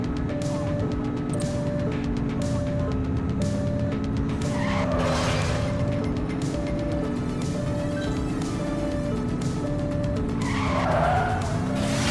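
A dark van in a police pursuit in the game The Precinct, with a steady loud engine drone, siren-like wavering tones and two bursts of tire squeal and skidding, and no talking.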